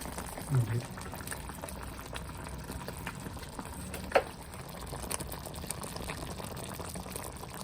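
A pot of tamarind curry (vatha kuzhambu) with curry leaves bubbles and simmers with a soft, steady liquid burble after the stove is turned off, with a faint clink partway through.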